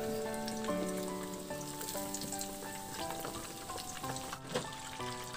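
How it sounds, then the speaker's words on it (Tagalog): Breaded chicken fries in a pan with a dense, continuous crackling sizzle, close and fairly loud throughout, while tonal background music plays underneath. "At pagka brown na yung kabilang side, baliktarin na rin hanggang sa maluto na lang din yung ating chicken."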